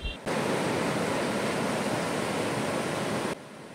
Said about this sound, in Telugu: ఈ సముద్రపు ఘోష అని ఎందుకంటారో